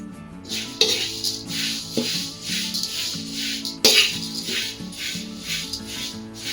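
Poha being dry-roasted and stirred in a pan over a low flame, with a steady rhythmic scraping and rattling of the flakes against the metal, plus a few louder clanks of the spatula, close and with no talking.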